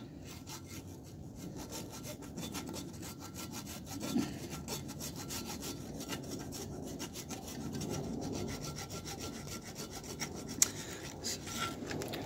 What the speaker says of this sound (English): we're going to keep uh, working at creating a groove right in here.